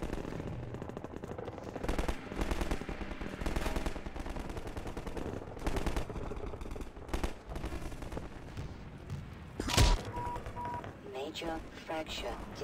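Rapid automatic gunfire from a Half-Life 2 firefight comes in repeated bursts mixed with single louder shots and game effects, while players talk over the action.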